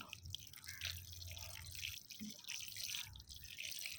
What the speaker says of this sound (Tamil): கொஞ்சம் தண்ணி விட்டு